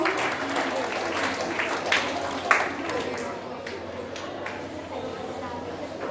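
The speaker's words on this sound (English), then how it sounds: "clap for them also." Students and staff applaud Bose House for second place in a school storytelling competition at Doon Valley High School, a full crowd clapping that gradually thins and fades, with talk mixed in.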